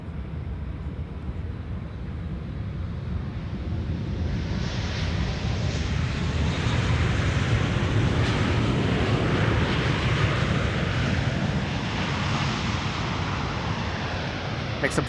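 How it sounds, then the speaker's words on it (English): A KLM Boeing 777-300ER wide-body airliner landing at Schiphol on the Polderbaan produces a loud, continuous jet engine roar that swells and broadens midway, sustained throughout, with some voices underneath. "This is KLM flight 758 777-300ER arriving from Panama City."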